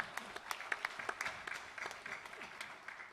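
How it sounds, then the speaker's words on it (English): Steady applause from an audience at a skiffle music show, a fairly quiet wash of many hands clapping with a few sharper claps standing out. "That deserves a round of applause."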